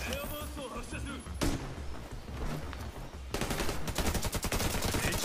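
An airburst launcher fired in The Division 2, with loud bursts and rapid repeated blasts building toward the end over dense combat noise.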